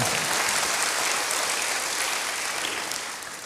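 A church congregation applauds for God during an Indonesian sermon, a steady broad roar of many hands clapping together, loud and sustained before easing slightly at the end.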